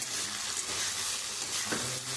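Ginger, chilli and garlic paste fry with onion and browned potato pieces, giving a dense, loud, continuous sizzle with faint stirring and a small bump near the end.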